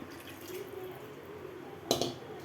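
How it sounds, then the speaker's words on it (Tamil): Water is poured into a simmering fish curry masala in a pan, a faint steady trickle beneath a low background hiss, followed near the end by a short louder splash. "வாட்டர் கொஞ்சம் ஆட் பண்ணிக்கலாம்"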